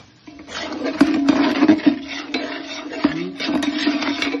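Spices and turmeric roasting in a pot for restaurant-style pav bhaji, with a steady close sizzle broken by repeated scraping and stirring clatter of a spoon against the pan, no talking.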